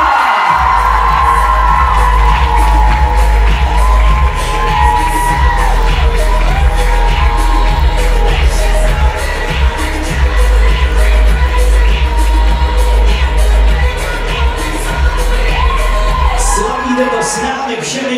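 Graduating class's entrance and sash ceremony at Gymnázium Soběslav, with a loud, dense crowd cheering, whooping and shouting throughout, a steady rhythmic beat of music underneath and voices calling out.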